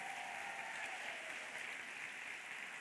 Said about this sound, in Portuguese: E eu quero que toda a igreja dê uma salva de palmas a esses pais.